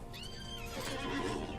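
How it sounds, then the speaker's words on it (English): A horse whinnies in the Lord of the Rings Online video game, one long rising and falling neigh with faint hoof clip-clop beneath, clear and alone without talk. "so we'll get on our horse, of course, Clyde."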